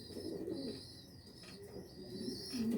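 A tagged 2019 Mexican bird, likely a pigeon, gives low, soft cooing calls at close range over a steady background hum, with no talking.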